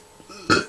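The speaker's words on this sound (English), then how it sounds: "I burped." One short, loud burp from a person right at the microphone, after a faint murmur of background noise.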